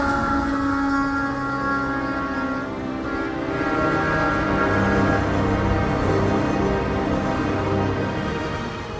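A train passes at night with a loud, continuous rumble and sustained whining tones that hold steady for the whole stretch, with no talking.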